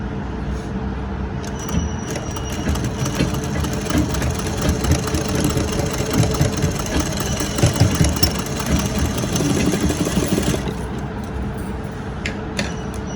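Sewing machine stitching the front and back pieces of a blouse together, a steady continuous motor whir and needle chatter running for about ten seconds, then stopping near the end.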